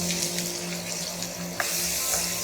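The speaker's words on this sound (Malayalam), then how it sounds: "സവാള ഒന്ന് ലൈറ്റായിട്ട് കളർ മാറുന്ന വരെ നമുക്കൊന്ന് വഴറ്റിയെടുക്കാം" Chopped onion sautéing with cumin seeds in hot oil in a pan, a steady soft sizzle and crackle close by with a faint hum underneath.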